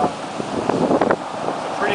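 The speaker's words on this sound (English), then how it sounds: "It's not cold out, but it's definitely a little bit windy." Gusty wind buffets the microphone on a stormy late-October coast at Newport, Rhode Island, with surf rumbling underneath and a person speaking briefly over the roar.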